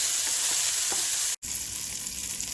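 A continuous close sizzle of meatballs frying in a hot pan, with a brief cut in the middle before the sizzling resumes.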